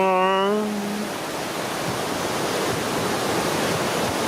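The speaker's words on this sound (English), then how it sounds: "We're super close to the waterfall now." Sweden's highest waterfall roars as a steady, loud, broadband rush of falling water close by, filling the whole clip after a brief tonal sound at the start.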